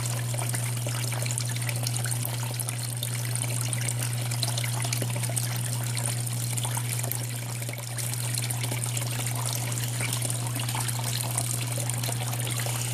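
Water washes gold concentrate over a Miller table at a stream in Uwharrie National Forest, giving a steady, close trickle and gush under a constant low hum, with no talking.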